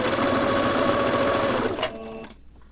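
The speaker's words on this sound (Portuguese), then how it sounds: "E eu passo apenas uma costura reta, ó, de ponta a ponta." A sewing machine runs a straight seam along the edge of a cloth before a crochet border is added, buzzing loud and steady up close for nearly two seconds, then slowing and stopping.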